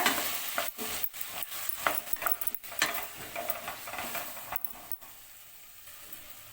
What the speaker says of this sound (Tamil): இது கூடவே ரெண்டு தக்காளியை கட் பண்ணி வச்சுருக்கேங்க அதையும் சேர்த்துக்கோங்க இதுவும் நல்லா சாஃப்ட் ஆகணுங்க அது வரைக்கும் நல்லா வதக்கிக்கோங்க